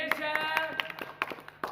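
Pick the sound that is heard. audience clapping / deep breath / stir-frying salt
audience clapping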